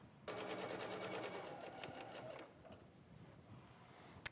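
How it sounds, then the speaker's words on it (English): A sewing machine stitches quilt-as-you-go placemat fabric in a steady, fast mechanical whir lasting about two seconds, then slows and stops, with a small sharp click at the very end. "on my machine, I'm going to stitch 1/4 of an inch from that placement line"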